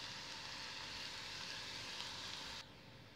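Garlic fries in hot oil with asafoetida for a Kerala-style lemon pickle, giving a steady, faint sizzle close by that drops off abruptly near the end.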